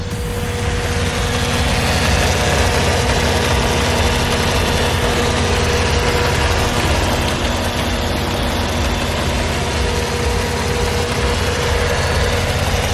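Turbocharged Buick 3800 V6 swapped into a BMW E46, idling slightly rough and running rich, a loud, close, steady low rumble with a faint uneven pulse, no voices.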